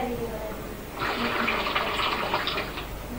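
Water is poured during a magic trick, released from a container by lifting a thumb off it, and runs in a steady splashing stream for about two seconds. Faint room sound comes before the pour.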